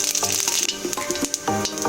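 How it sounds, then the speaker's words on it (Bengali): Whole cumin seeds hit hot mustard oil in a kadai, giving a crackling, popping sizzle with quick irregular bursts, close up and fairly loud for the whole short stretch. "কড়াতে আমি সরষের তেল দিচ্ছি, তেল গরম হয়ে গেছে, ওর মধ্যে গোটা জিরে দিলাম"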